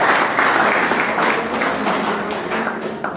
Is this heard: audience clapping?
yes